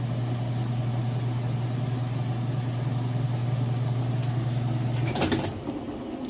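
A Whirlpool top-load washing machine spins at full speed with a loud, steady mechanical whir and drone that holds constant, then cuts off with a brief clatter near the end.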